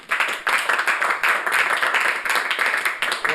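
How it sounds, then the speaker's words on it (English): An audience at a PowerPoint karaoke comedy show claps for a presenter, bright rhythmic hand claps pulsing steadily and fairly close. "Please clap."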